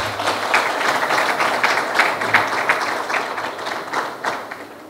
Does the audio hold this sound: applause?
yes